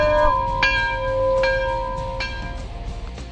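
Three clear rings of a bell at a dealership, each sharp metallic strike followed by a ringing tone that fades, spaced about a second apart.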